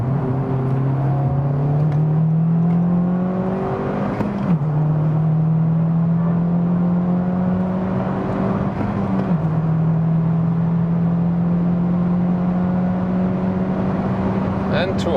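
A 310 hp Honda Civic Type R accelerates hard on the Autobahn from inside the cabin, its engine note climbing steadily through the gears with two brief dips at the upshifts. A voice speaks over the drone.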